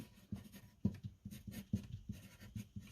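Pen or marker writing out a physics law on a board, a run of quiet, close scratching strokes in short uneven bursts with small taps between them, alone with no speech.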